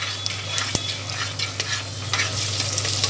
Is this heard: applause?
no